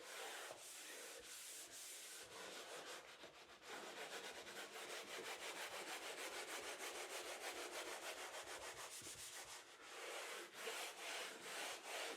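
Hand scrubbing of a rough-bottomed, very dirty bathtub: steady, close rasping strokes repeat in a fast back-and-forth rhythm for the whole stretch, loud and continuous with no voices.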